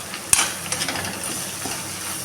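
Garlic paste, turmeric and onions fry in a kadai with a soft, steady sizzle, opened by a sharp metallic clink and followed by lighter scraping taps of stirring.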